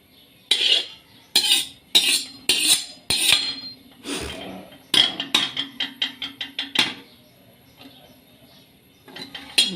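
Heated whole spices — black peppercorns, fennel, cumin and mustard seed — pounded for a cauliflower and carrot pickle, sharp metallic strikes in irregular bursts, then a quickening run of rapid blows, close and loud with no talk.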